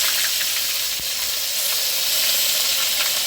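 Whole cumin seeds and onion fry in hot oil for a Bengali rui fish curry, a loud, steady, close sizzling hiss with no voices.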